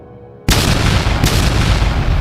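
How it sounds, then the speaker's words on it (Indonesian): An energy explosion during a sword fight: a sudden loud boom bursts in after a quiet moment, followed by a second blast, with a dense roaring wash filling the space. "Ledakan energi terdengar saat mereka menebas"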